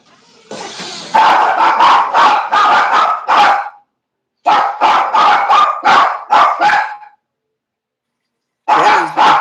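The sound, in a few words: dogs barking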